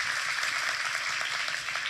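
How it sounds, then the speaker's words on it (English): Audience clapping at a talk, a brief even patter of applause that sounds somewhat distant and continues steadily throughout. "everybody can give her a round of applause."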